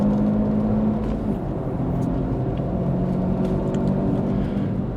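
A car cruises through city roads around Kuala Lumpur, a steady, enclosed engine and road drone with constant low rumble and no pauses, heard from inside the cabin.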